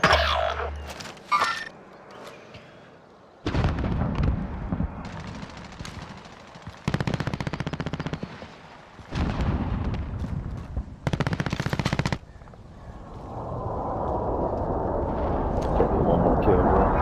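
Gunfire in the Call of Duty: Modern Warfare video game comes in several loud bursts of automatic fire separated by short lulls, mixed with game ambience and a rising hiss near the end.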